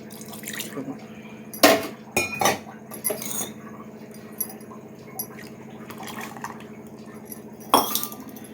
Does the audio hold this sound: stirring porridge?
yes